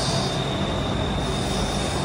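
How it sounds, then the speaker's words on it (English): A Bangkok metro train pulls into a station with a loud, steady rolling rumble and a sustained high-pitched wheel squeal, close by and continuous. "And finally the Thai metro comes."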